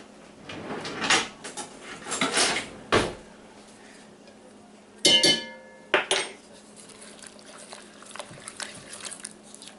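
Baked beans with lemon juice are stirred in a bowl: a spoon clatters and scrapes against the dish in loud bursts separated by quieter gaps, with fainter clinks toward the end.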